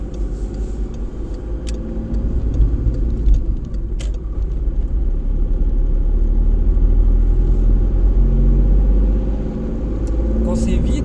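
A car cruises along an empty road with a steady low engine rumble and tyre noise, heard from inside the vehicle while someone talks over it.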